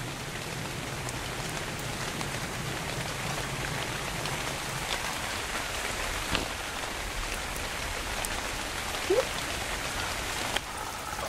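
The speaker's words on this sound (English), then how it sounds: "There's the rain." Steady, even rain hisses in the video game ARK: Scorched Earth, a dense wash of drops on surfaces with a few brief louder ticks and no voices.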